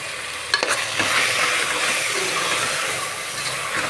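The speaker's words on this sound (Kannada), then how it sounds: "ಇದು ಹಾಕಿ ಮಸಾಲೆ ಹಸಿ ವಾಸನೆ ಹೋಗೋ ಥರ ಫ್ರೈ ಮಾಡ್ಕೋಬೇಕು." Masala paste for methi rice bath frying in a pan, a steady close sizzle with occasional stirring clicks, continuous throughout with no voices.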